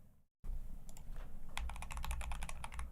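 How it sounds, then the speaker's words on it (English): Rapid clattering keystrokes on a computer keyboard, close and fairly loud, starting after a brief silence and speeding into a dense burst of taps. "I keep typing in Twitter instead of Twitch."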